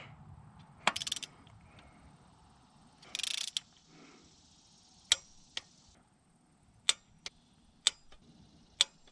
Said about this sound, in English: I'm just gonna click these down to 18 foot-pounds.